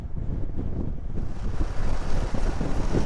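Strong wind buffets the microphone while crossing a waterway, a loud, continuous low roar with gusty swells and no talking.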